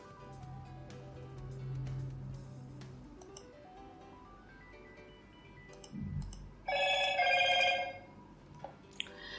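A phone chimes with a short notification alert, a bright tonal ping near the end of an otherwise quiet stretch with a few faint clicks and ticks, and no one speaking.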